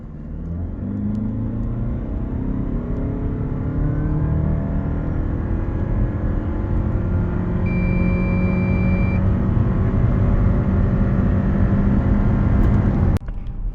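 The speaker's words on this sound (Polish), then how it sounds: "CHR naprawdę ładnie przyspiesza" A Toyota C-HR GR Sport 2.0 hybrid engine revs up and pulls hard on full acceleration, its pitch climbing steadily over a deep rumble, loud and close, ending abruptly.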